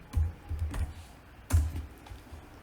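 Fingers tap on a computer keyboard while a Tableau calculation is edited: a few quick clusters of close, crisp keystrokes separated by short pauses, with a sharper burst of keys midway and no speech.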